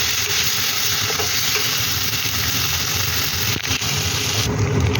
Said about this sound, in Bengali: ধনে গুঁড়ো, একটু জিরে গুঁড়ো দিয়ে ভালো করে আবারও কষিয়ে নেব।